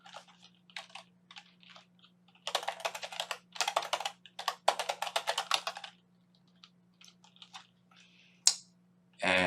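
Someone types a file name on a computer keyboard while exporting a 3D T-shirt model to GLTF, with scattered keystrokes breaking into quick runs of clicking, close and clear over a steady low hum, with no talking.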